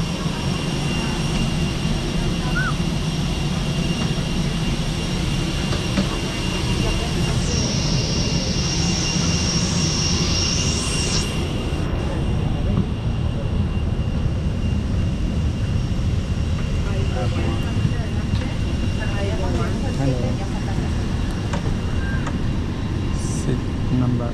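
Airplane cabin on a flight to Sri Lanka, a loud steady engine roar and hiss filling the whole stretch with a faint tone sounding midway, and a person talking intermittently over the drone.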